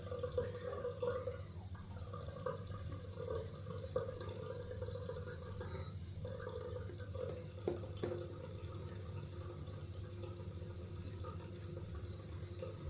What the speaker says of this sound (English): We need a little bit more water.